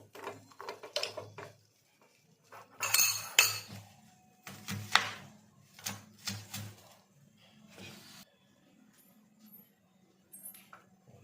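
A knife chops onions, giving irregular bursts of sharp knocks and faint clinks separated by short quiet gaps, close by and without speech.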